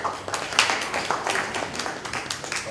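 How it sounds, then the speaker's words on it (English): An audience at a press briefing on works and infrastructure gives a round of applause, a light, scattered patter of clapping hands that stays moderate and fairly even throughout. "And I think they deserve a round of applause"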